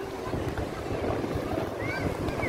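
Wind buffeting a phone microphone by the sea, a low rough rumble with gusty swells, faint surf and someone speaking softly beneath it.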